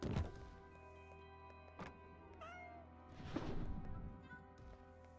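A cat meows in the goblin cleanup video game, a few faint drawn-out meows over a low steady hum, with soft thumps at the start and end.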